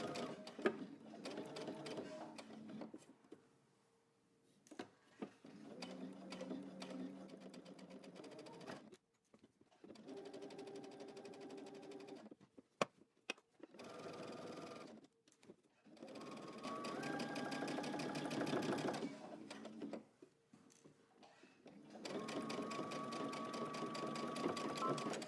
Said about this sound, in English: we're going to stitch right in that seam line